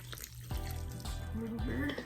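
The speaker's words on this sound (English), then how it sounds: "Now let's fill it up with water to the top" Tap water running into a container for a home tie-dye project, a steady splashing flow with rising gurgles as it fills, close by.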